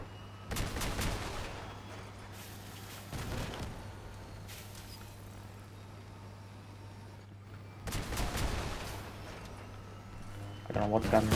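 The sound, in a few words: gunfire from weapons in the video game Crossout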